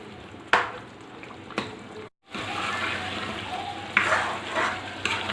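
Chicken karahi with chopped green chillies, tomatoes and masala sizzles steadily in a pan at close range. A few sharp clatters of stirring rise above the frying, and the sizzle drops out briefly before resuming.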